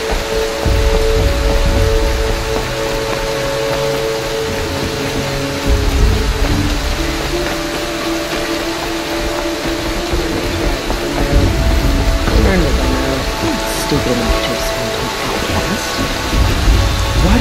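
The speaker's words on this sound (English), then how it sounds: "Even the rain in this game looks beautiful." Rain pours in Horizon Zero Dawn, a loud, dense hiss with low rolling rumbles of thunder swelling and fading throughout, no voices.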